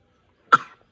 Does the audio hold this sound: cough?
yes